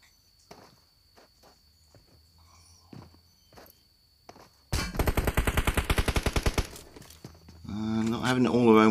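Rapid automatic gunfire erupts in a long, close burst of evenly spaced shots during an online shooter match, after quieter footsteps and faint movement sounds, with a voice at the end.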